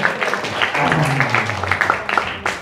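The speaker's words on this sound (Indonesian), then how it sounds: "Tepuk tangan buat saudara." Audience applause fills a room at an entrepreneurship workshop run by an industrial engineering program, a steady wash of clapping lasting a few seconds with a voice briefly audible underneath.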